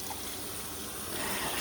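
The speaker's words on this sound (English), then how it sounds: "Put some hot water in there" Hot water runs from a tap into a glaze-crusted roasting pan in a kitchen, a short steady gush that swells louder toward the end, with no talking.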